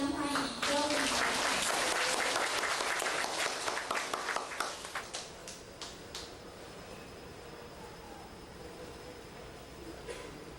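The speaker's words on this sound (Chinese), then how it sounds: "我们以热烈的掌声欢迎周明凯" Audience applause at a Taiwanese Hokkien lecture class on the Doctrine of the Mean, dense clapping for about five seconds that thins out and fades into quiet room tone.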